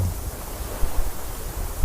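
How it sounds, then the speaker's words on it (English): Steady broadband rush of sea surf and wind, a soft continuous wash with faint low rumbles and no voices. "Waves, foam, waves, foam"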